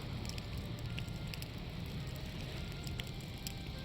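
Raw meat cooks over a campfire in the video game Valheim, giving a quiet, steady crackle and sizzle with scattered small pops over a low rumble.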